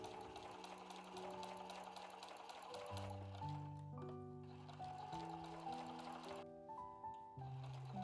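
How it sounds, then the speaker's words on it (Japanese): A sewing machine stitches along the folded opening of a fabric shoulder bag in bursts of fast, buzzing needle runs with brief pauses between them, close and clear, with no voices. "ミシンで縫います。"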